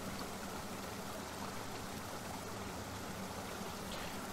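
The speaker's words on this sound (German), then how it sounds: "Wenn ich den Schrank bewege, wird er den Wasserfluss blockieren." Water gushes steadily from a burst pipe in a video game, a constant rushing, splashing stream heard alone at even volume throughout.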